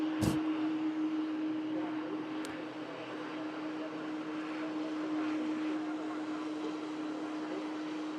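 An EasyJet passenger jet taxiing out at Manchester Airport for a flight to Paris Charles de Gaulle, a steady distant engine hum and whine, with a brief thump at the start.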